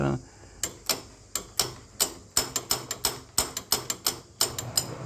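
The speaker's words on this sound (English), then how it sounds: "undoing the bolt so I can take it apart" A bolt on a Greenfield mower is undone with a hand tool: about twenty sharp, close metallic clicks and knocks come in an uneven ratcheting rhythm, with a voice faint underneath.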